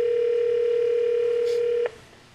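An outgoing telephone call goes unanswered, giving a single loud, steady ringback tone that lasts nearly two seconds before cutting off, with a faint hum left behind.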